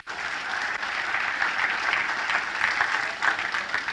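A church congregation claps loudly during a pastor's sermon, a dense, steady round of applause filling the space for about four seconds without a break.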